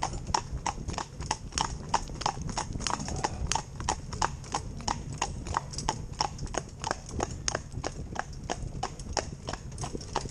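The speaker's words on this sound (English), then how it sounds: "it can hear the horse coming" A cart horse clip-clops along at a steady trot, its hoof strikes close, crisp and regular throughout, with faint outdoor background and a possible brief whinny.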